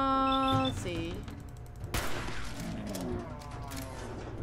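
Gunfire from the player's weapon in the video game Fallout 4, a sharp burst of shots near and loud amid music and game effects, with a strong crack at about the midpoint.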